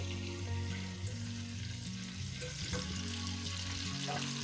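Food for Hungarian goulash frying in hot oil, a continuous bubbling sizzle that holds steady throughout at close range, with no speech.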